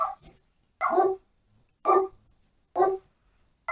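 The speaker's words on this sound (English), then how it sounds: "Oh, there go the dogs." Dog barks ring out four times in a steady series, each bark loud and close with short pauses between, followed by a start of another.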